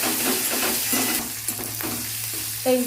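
Crushed garlic cloves fry lightly in hot oil in a pan for a potato and eggplant bhorta. A steady close sizzle runs under scraping stir strokes, with a sharper clatter near the end.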